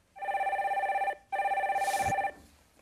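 Telephone ringing while a call connects on a Korean stock-advice radio call-in show: two loud, warbling electronic rings about a second each, separated by a short gap, with a brief click after the second.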